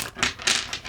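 Tarot cards being shuffled by hand make quick, crisp papery riffles and taps in a brief close-up burst.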